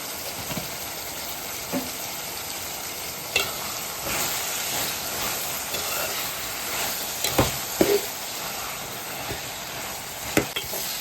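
Tomatoes, cumin and coriander frying in oil for a brinjal-tomato chutney give a steady close sizzle. Irregular clinks and scrapes of a stirring utensil sound against the pan throughout.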